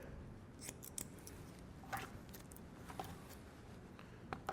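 Scissors snipping hair during a wolf cut mullet haircut, a few faint, quick close cuts spaced irregularly over a quiet background, with no talking.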